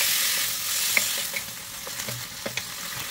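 Beef browning in a frying pan, a steady close sizzle with occasional small pops and spatters, no voices.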